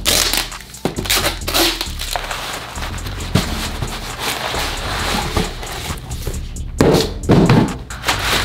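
Watch box packaging being torn open by hand without a knife, close and loud: crinkling, crushing cardboard and plastic with sharp rips and thumps in irregular bursts.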